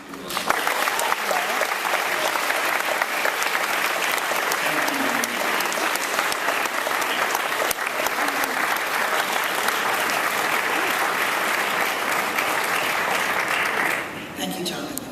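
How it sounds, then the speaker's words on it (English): Students at a college welcome ceremony applaud their parents in a long, loud, dense round of clapping filling a large space, which tapers off as it ends. "give a round of applause to their parents"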